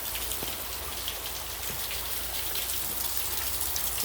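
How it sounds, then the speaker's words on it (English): Steady rain patters on a road on Christmas Eve, a dense, even hiss of drops with no voices heard. "It's raining, you all."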